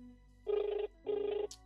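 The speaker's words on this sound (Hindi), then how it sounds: "सबसे पहले बात की जाए इनसे फोन मिला के।" A phone call rings with two short electronic ringback tones separated by a brief pause, followed by a faint high blip, clear and close.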